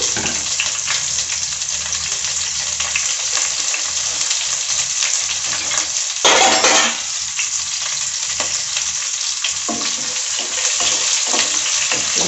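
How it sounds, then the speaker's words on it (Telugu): Eggplant and sliced onions fry in a pan for a Nellore-style vankaya pulusu, a loud continuous sizzle with the soft scrape of stirring and a brief louder surge partway through. "ఇప్పుడు ఇవన్నీ వేసేసాం కదా ఒకసారి కలుపుకుందాము"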